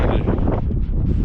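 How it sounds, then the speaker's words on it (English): Strong desert wind buffets the microphone in a steady, loud roar with gusty surges and rustling, with no other sounds standing out. "Oh, it's windy."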